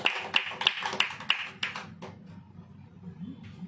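Church congregation clapping in short, scattered claps that fade away after a couple of seconds, leaving a quieter room.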